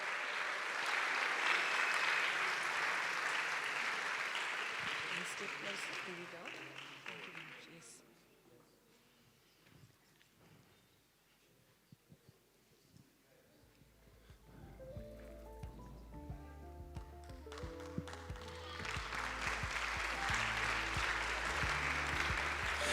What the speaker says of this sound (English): let's give them a round of applause because they helped decide on the winners